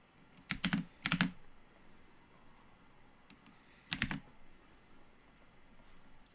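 Computer keyboard typing in a quiet room: two short clattering bursts near the start and another a few seconds later, close and fairly crisp, with faint background noise between them and no talking.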